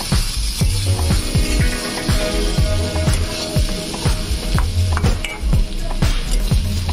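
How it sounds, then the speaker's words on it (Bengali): A spatula scrapes and stirs vegetables in a covered pan on low heat, producing repeated rhythmic scraping strokes over a steady frying sizzle, close and fairly loud, with no talking. "ঢাকাটা তুলে নিয়ে আমি এটাকে একবার নাড়িয়ে দিচ্ছি।"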